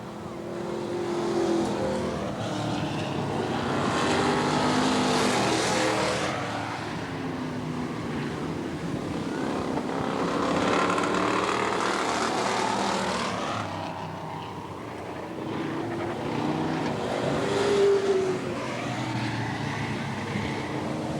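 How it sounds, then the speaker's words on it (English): Race cars at Eugene Speedway roaring around the track, engines swelling and fading as they pass in waves of loud revving over about twenty seconds. "Jack Barentate about to overtake Ray Hover."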